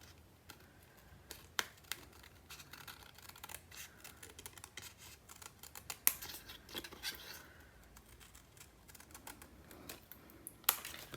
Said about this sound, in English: I'm just going to follow the edge of my cranberry heart and with my scissors very carefully